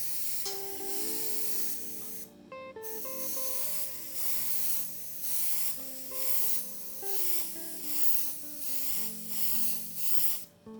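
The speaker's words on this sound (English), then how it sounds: "I needed airbrush to spray thick" A Colani airbrush fitted with a thick 0.8 to 1.2 mm needle sprays in short repeated bursts, each a steady close hiss broken by brief pauses, over a faint constant hum.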